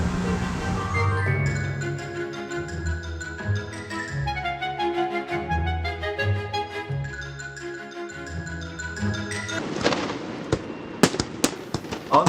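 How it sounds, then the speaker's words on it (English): A New Year's Eve fireworks display over Jack Evans Boat Harbour at Tweed Heads: music plays for most of the stretch, then sharp crackling bursts and bangs ring out near the end. "the Jack Evans Boat Harbour comes alive with the New Year's Eve fireworks display to light up the night sky"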